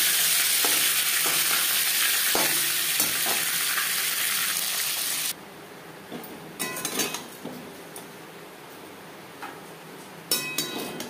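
Bhetki fish sizzles and crackles steadily in hot oil, loud and close, then the frying drops quieter about halfway through with scattered pops and scraping clinks.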